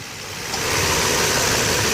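A Mercedes V12 car engine with a faulty mass air flow sensor idles, a steady close mechanical rumble that rises slightly in the first half-second and then holds even and loud.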